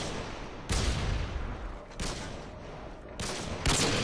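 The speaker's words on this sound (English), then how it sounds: "Throwing a stun grenade!" Stun grenade blasts in Call of Duty Modern Warfare 2 multiplayer: three loud, sharp broadband bursts at roughly one-second-plus intervals, each trailing into a sustained roar of battle noise.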